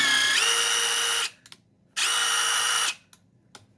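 Two bursts of a freshly re-greased impact driver whirring at high pitch, each about a second long, with brief mechanical clicks and rattles between them.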